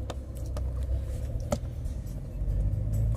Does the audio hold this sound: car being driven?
yes